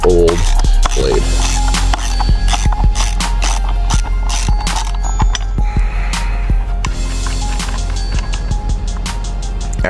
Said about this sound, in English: Got the socket on here and I'm removing the old blade.